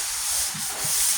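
Sandpaper rubbed by hand over painted metal on a 1998 Ford Ranger tailgate, a close, steady scratchy hiss lasting about a second with two slightly stronger strokes.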